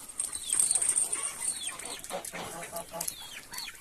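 Young roosters cluck and call in a farmyard, close and lively, with overlapping bursts for a few seconds and a faint bright background tone.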